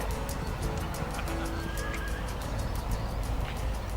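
A dressage horse at a Grand Prix dressage festival whinnies amid steady arena noise, with brief higher calls rising over a constant background din and no talking.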